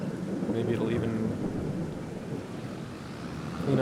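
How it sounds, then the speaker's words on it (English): Heavy rain pours steadily in the farming video game Farming Simulator 22 while a deep roll of thunder rumbles through, low and continuous, with gusty wind noise. "Oh, look at that, it's raining."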